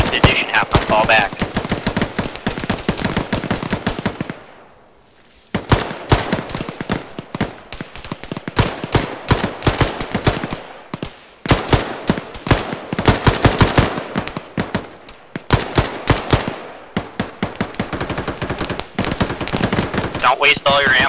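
ArmA 3 gunfire rattles almost without pause in dense, loud bursts of rifle and machine-gun shots, broken by a short lull early on and then resuming in rapid volleys to the end.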